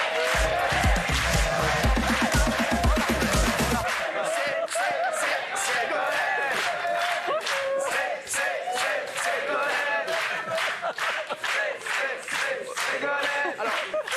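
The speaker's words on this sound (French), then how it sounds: "Applaudissements." A French television studio audience erupts in applause, cheers and whoops for a guest's entrance. Loud, sustained crowd noise has a steady rhythmic clapping pattern, with a low musical rumble underneath for the first few seconds.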